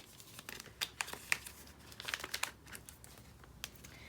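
A paper photocard envelope is handled and opened, sharp crinkling and tearing rustles in quick irregular bursts, close and quiet, with brief pauses between crackles.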